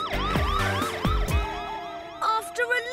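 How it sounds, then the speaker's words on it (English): A cartoon siren wails, sweeping up and down in rapid, repeating cycles, fairly loud and close, with a second yelping pattern joining near the end. "I'm aware there's a siren."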